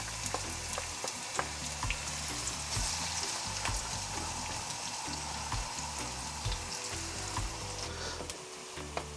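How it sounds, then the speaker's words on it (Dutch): Onions frying in sunflower oil for a Surinamese lamb curry, a steady close sizzle with small popping crackles running throughout, with no talking. "Laat de uien goed bakken."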